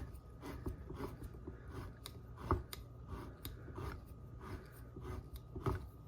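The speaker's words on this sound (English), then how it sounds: "And then you just turn it until you hear the click." A manual can opener turns around the rim of a can, giving a steady run of close, dry ratcheting clicks and grinding scrapes with a few sharper snaps, and no voices.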